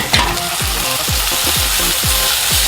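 Slit green chillies and finely chopped tomatoes sauté in hot oil in a pan for a Kerala sardine curry. The sizzle is loud and constant, broken by regular scraping stirs about every half second.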